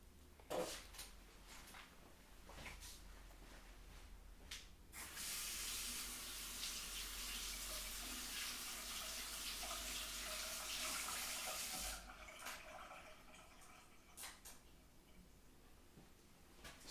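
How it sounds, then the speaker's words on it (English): A water tap runs steadily into a sink while a paintbrush is rinsed, a broad hiss swelling loud for several seconds in the middle, with softer splashes and small clatters before and after; no talking. "I'm going to wash my brush"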